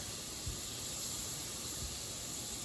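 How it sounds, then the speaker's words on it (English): Garlic sautéing in butter in a pan, a steady broadband hiss and sizzle throughout, close and even with no talking. "Just want to saute this so it's lightly brown. This butter and garlic."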